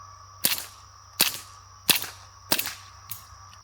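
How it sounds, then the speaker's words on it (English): Suppressed .22 pistol shots through a Hush Point silencer run wet with CCI Quiet semi-auto ammunition: five sharp, fairly soft cracks at a steady pace outdoors at a range, with a constant background hum. "Running this can wet again, I had 5 rounds of the CCI quiet semi-auto."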